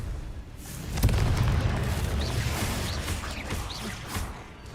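A Confringo fire spell in Hogwarts Legacy bursts into a heavy booming explosion, with a broad rumbling blast that sustains loudly for several seconds alongside scattered whooshing and crackling effects.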